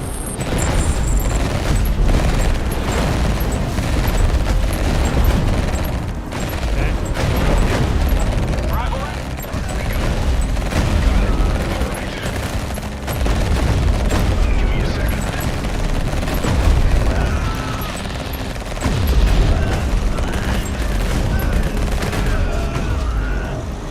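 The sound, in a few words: gunfire and explosions in the video game Frostpunk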